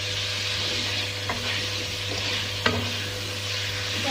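Egg koftas frying lightly in oil in a pan for kofta curry, a constant close sizzle with a couple of brief scraping stirs and one sharp utensil knock, no voices.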